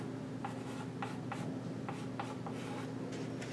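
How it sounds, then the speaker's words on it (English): Marker or chalk handwriting on a board while working out a math problem, a series of short rubbing strokes spaced irregularly, close and clear over a steady low hum, with no talking. "I'll go ahead and write out the x squared."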